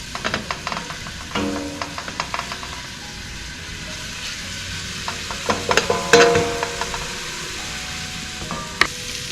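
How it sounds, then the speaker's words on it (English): Shallots sweating gently in a pan for mushroom risotto, a quiet low sizzle under frequent clicking and scraping strokes of a spoon against the pan, heard close and without talking. "And sweating is basically like sauteing, but I do not want to start any colorization of the shallots."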